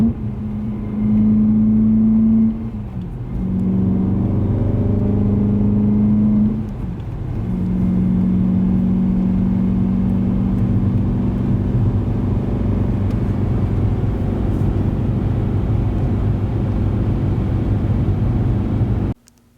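BMW E90 M3 after a rod bearing replacement, heard on the move from inside: a loud sustained engine drone that rises through revs, dips briefly at gear changes, then holds a steady cruising hum before cutting off.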